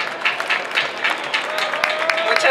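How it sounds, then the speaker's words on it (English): At a mariachi festival opening ceremony, an audience claps for an honored guest. The applause is brisk and moderately loud, with scattered individual claps standing out over a crowd murmur. "Please give a big applause"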